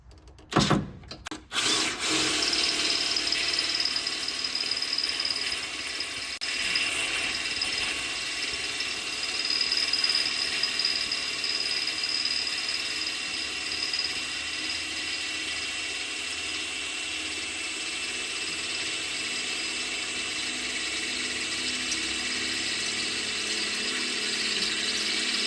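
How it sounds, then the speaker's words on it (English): A power drill runs continuously at close range, drilling a bolt hole while a suspension lift kit is fitted to a Ford F-250/F-350, a steady high whine with grinding, after a few sharp clicks at the start. "we can mark our last hole here and drill that out"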